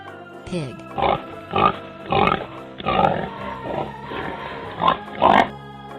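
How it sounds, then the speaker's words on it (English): Pig grunting in a series of about eight loud, close bursts, each short and rough, coming in an irregular rhythm with brief gaps between them and no talking over the top. "Pig."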